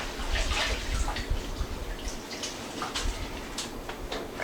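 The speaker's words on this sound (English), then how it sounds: "Let me wash my hands real quick" Hands are rinsed under a running kitchen tap, a steady close splashing wash with small drips and rubbing, continuous and moderately loud for the whole stretch.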